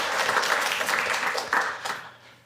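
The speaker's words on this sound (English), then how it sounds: "I'm hoping you guys can all give a round of applause for you all coming out tonight" Audience applause at a live podcast's 200th-episode event, a dense crowd clapping steadily before thinning and fading out over a couple of seconds.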